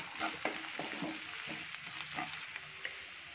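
Garlic and tomato fry in a pan with curry leaves while a spoon stirs, a soft continuous sizzle with light scraping and clicks, fairly quiet and close.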